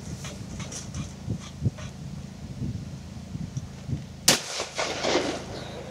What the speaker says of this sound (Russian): Прицелился под банку.